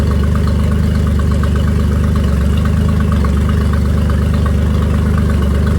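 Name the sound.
outboard boat motor idling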